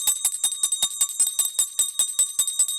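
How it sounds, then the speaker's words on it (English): Sleigh bells jingle in a steady, rapid rhythm of bright metallic shakes, close and clear, with no voices over them. "So I think it's time that the sleigh bells ring"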